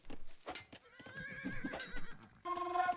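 A horse whinnies in an Age of Empires game near a stable, alongside hoof clip-clops and other game sound effects, with a bright chiming tone toward the end; no one talks.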